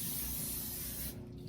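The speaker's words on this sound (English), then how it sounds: "spray the toys down" Cleaner sprayed onto children's toys during a bedroom tidy-up: one steady, close hiss running about a second before it cuts off, leaving quiet room tone.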